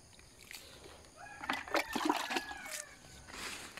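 Water from a small pour trickles and splashes onto tomato plants in a rice-field garden. The sound comes in soft, irregular spatters over about two seconds, fairly close but faint against the outdoor background.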